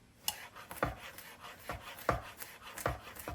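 A kitchen knife mincing garlic on a cutting board, with a steady rhythm of close scraping strokes and soft thuds as the blade is run back and forth.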